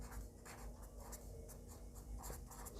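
Chalk or marker writing a heading on a classroom board during a class 8 science lesson on plastics, a faint continuous scratchy stroking with short rhythmic bursts, heard alone and quite quietly.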